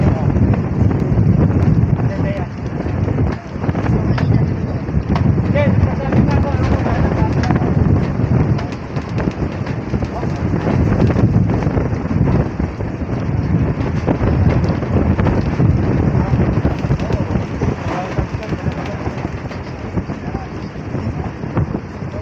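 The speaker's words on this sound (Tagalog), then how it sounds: "Bala ko sanang ilapag, kaso lakas ng hangin." Strong wind buffets the microphone out on the middle of a lake, a loud, constant low roar with gusty surges throughout, while people talk underneath.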